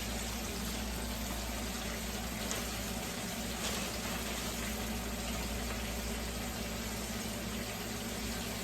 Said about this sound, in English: When you're frying your chicken like this, or anything you're frying, a bunch of, and a lot of oil, it's called deep frying.